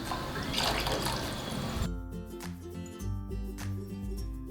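Water pours into a bowl of buttermilk curry mixture and splashes for a couple of seconds, then settles into a continuous liquid trickle with faint dripping close by.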